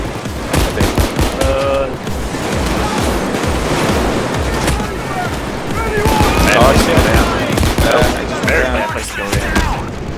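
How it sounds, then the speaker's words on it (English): Video game gunfire from enemies in Payday 2, dense and continuous rapid shots and bursts throughout, mixed with game noise, under steady voices of players talking. "They're shooting us through the bush."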